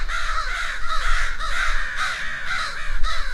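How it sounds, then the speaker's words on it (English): Several crows caw loudly and repeatedly around a fledgling, harsh overlapping calls coming in quick rhythmic bursts close by. "And not just the parents, but a whole wealth of crows."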